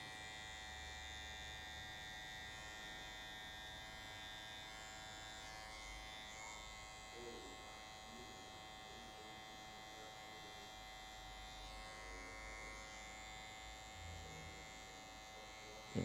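Electric hair clipper fitted with a medium-low guard cutting hair during a mid fade, a steady close buzzing hum running throughout with slight shifts in tone as it moves over the head.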